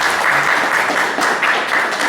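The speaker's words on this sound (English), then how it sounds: "Let's have a round of applause for all." A podcast audience applauds steadily throughout, a dense wash of clapping from a sizable crowd with no pauses.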